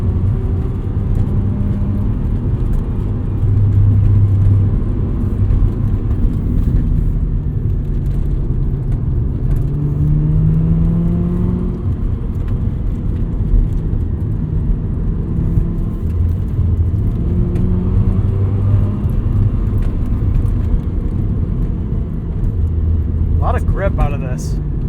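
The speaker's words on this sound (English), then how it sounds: "We have a Racing Beat exhaust." A 1990 Mazda RX-7 FC with a Racing Beat exhaust drives along a winding downhill road, its rotary engine droning steadily with varying pitch beneath continuous talk from the occupants.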